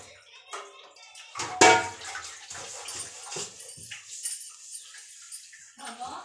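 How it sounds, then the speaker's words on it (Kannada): Water runs and splashes close by, while a dog whimpers and barks and a voice speaks intermittently. "ಪಾತ್ರೆನ ಬೆಳ್ಕೊಂಬಿಡೋಣ ನೀಟಾಗಿ"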